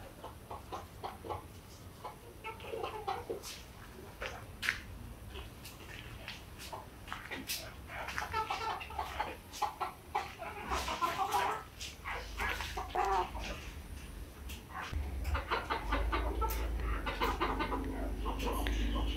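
Farm chickens cluck and chatter continuously around a feeding area, close and fairly loud, with irregular squawks rising over a busy background.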